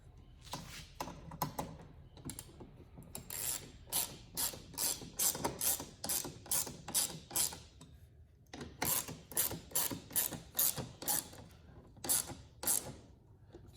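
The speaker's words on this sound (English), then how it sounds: "Go ahead and just get a 7mm ratchet." 7mm ratchet turning fasteners on a 2019 Dodge Challenger R/T Scat Pack Widebody, rapid rhythmic clicking in repeated bursts of strokes, close and crisp, with short pauses between runs.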